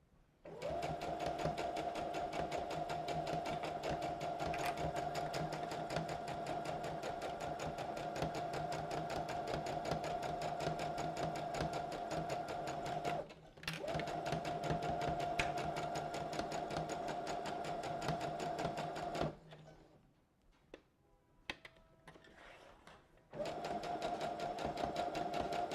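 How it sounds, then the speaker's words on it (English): A sewing machine stitches fabric at a corner in a steady, loud mechanical whir with a fast regular needle rhythm. It runs continuously, stops briefly, then resumes after a short quiet pause with a few light clicks. "I lift my presser foot, turn the fabric 90 degrees, and continue sewing."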